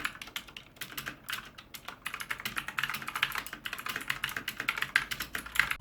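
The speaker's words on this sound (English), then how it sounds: "As with all clicky switches, they do generate quite a bit of noise" Rapid, steady typing on a white mechanical keyboard with clicky switches, dense sharp key clicks in an irregular run, close and fairly loud with no voices.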